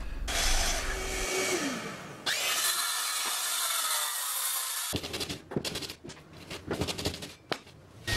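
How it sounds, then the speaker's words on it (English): A circular saw cutting freehand through MDF board: a loud whining cut that stops, a quieter stretch, then a run of rough, uneven rasping and scraping bursts, no voices. "I just did it freehand with the skill saw and cleaned it up with the sander later"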